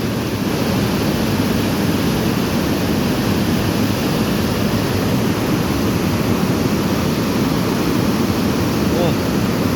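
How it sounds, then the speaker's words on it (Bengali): Torrent of floodwater gushing out toward the Shilabati river at Ghatal, a loud, dense, unbroken roar of rushing water close by with wind buffeting the microphone. "তোড়টা দেখো গাইস, এই জল বেরিয়ে চলে যাচ্ছে আমাদের শিলাবতীতে।"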